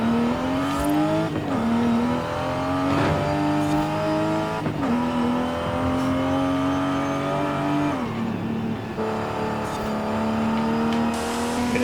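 A 1993 Nissan Skyline R33 inline-six revs hard in a Forza Horizon 5 race, its engine note climbing through gears with brief dips at each shift, loud and close throughout with no talk.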